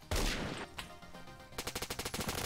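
Rapid gunfire from a gun in a Roblox shooter game, a heavy burst up front and then a fast, evenly spaced string of close, loud shots.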